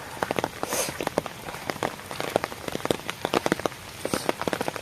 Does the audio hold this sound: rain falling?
yes